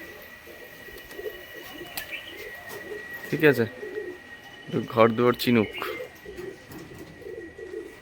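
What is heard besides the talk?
pigeons cooing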